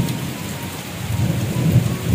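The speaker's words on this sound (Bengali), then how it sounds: "সেই মুহূর্তে হঠাৎ করেই বৃষ্টিটা নামছে।" Rain pours steadily with low rolling thunder rumbling underneath, heard from a veranda just after lunch as a sudden shower sets in; the downpour is loud and continuous, with no voices.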